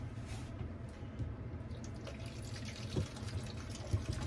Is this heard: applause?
no